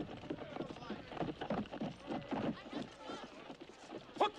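Horses' hooves clip-clop during a chaotic battle at a castle moat, the rhythmic beats mixed with shouting men and commotion.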